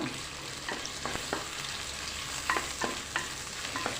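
Sliced onions go into a pan with okra for a coconut-based okra curry, giving a soft, steady sizzle broken by several scraping stirs of a spoon against the pan, quiet and close with no talking.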